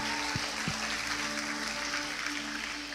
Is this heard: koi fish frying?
no